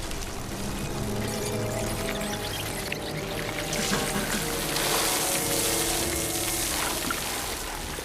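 Hot water pours steadily onto ants for several seconds, a continuous close splashing rush that swells slightly midway before easing off.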